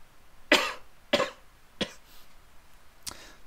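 Four separate coughs from one person, nearby and fairly quiet, each a short burst with gaps of roughly half a second to over a second between them, with no talking in between.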